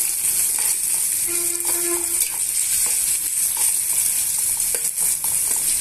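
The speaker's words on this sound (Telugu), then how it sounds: "ఉల్లిపాయ ముక్కలు పచ్చిమిరపకాయ ముక్కలు యాడ్ చేసిన తర్వాత ఇవన్నీ బాగా వేగం ఇద్దామండి" Onions and green chillies fry in a pan with a dense, steady sizzle and occasional light stirring scrapes, close by, with no talking.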